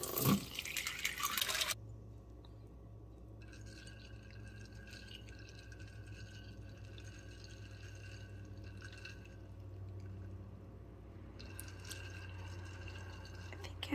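Water trickles and drips steadily into a container of soybeans, quiet and close, after a brief louder splash at the start.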